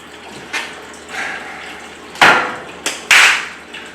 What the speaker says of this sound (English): Just gonna pump that water out.